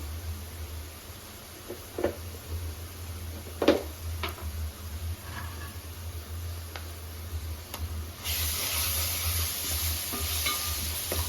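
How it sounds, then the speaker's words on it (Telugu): Onions with turmeric and ginger-garlic paste frying in a pan, a soft steady sizzle with scattered spatula taps and scrapes, the hiss growing louder and brighter toward the end. "బాగా మిక్స్ చేసి పచ్చివాసన పోయేంత వరకు ఫ్రై చేసుకోవాలి"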